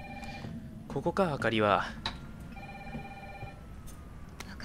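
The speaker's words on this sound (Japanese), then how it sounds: "なんだこんな夜中に電話よこしやがって" A telephone rings in the horror video game Resident Evil 3 remake during a late-night scene, with repeated electronic ring tones under a man's speech.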